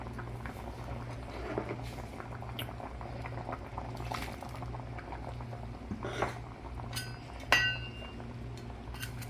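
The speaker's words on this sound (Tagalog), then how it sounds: "So, ayan po, kumukulo na ang ating tahong." Mussels boil in a pot of sinigang broth, a steady bubbling churn with a low hum beneath, punctuated near the end by a sharp metallic clink and a brief splashy burst.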